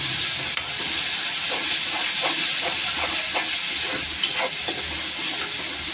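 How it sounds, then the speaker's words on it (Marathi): Masala frying in oil for mushroom masala, a loud, steady close sizzle and hiss with faint stirring clicks scattered through it. "आता व्यवस्थित भाजायचा. तेल सुटेपर्यंत भाजा."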